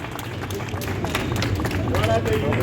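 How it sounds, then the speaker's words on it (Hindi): Applause from a crowd welcoming a speaker at a shop handover ceremony, steady dense clapping with a babble of voices mixed in throughout. "तालियों से स्वागत करें"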